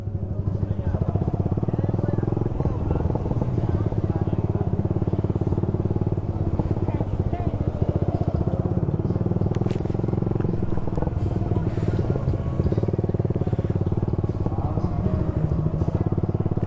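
A motorcycle runs steadily along a beach, its engine drone holding close and constant throughout with some rattling clatter, while people talk over it.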